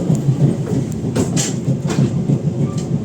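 Interior of the KA Majapahit economy passenger train in motion: a loud, steady rumble with rhythmic clickety-clack of wheels over rail joints.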